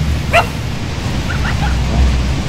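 A badger in the video game Shelter gives one short, sharp bark, then a few softer yips over a low game background rumble.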